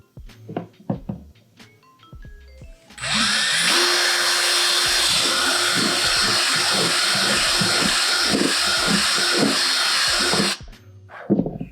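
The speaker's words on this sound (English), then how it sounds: "Actually, shouldn't talk over the drill." An electric drill enlarges holes during a customization job, running continuously for about seven seconds, loud and close. Short knocks and handling sounds come before it, and a few more follow once it stops.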